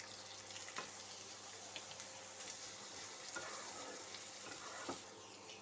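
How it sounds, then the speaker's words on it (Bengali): Chopped garlic and onion sizzle in hot oil in a pan with a steady, faint crackle and occasional stirring scrapes, no voices. "দিয়ে এটা একটু ভালো করে ভাজতে হবে।"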